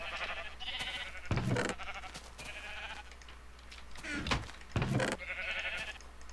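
Sheep in Minecraft bleat in several wavering calls spread across the stretch, mixed with a few short, heavier game sound bursts and a faint steady background hum.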